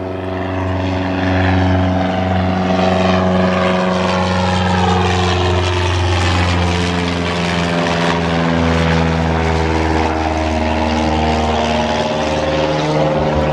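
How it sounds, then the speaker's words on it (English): A propeller airplane flies overhead near Chatham, Massachusetts, a loud, steady engine drone whose pitch slowly bends as it passes, with no voices. "There's a plane coming."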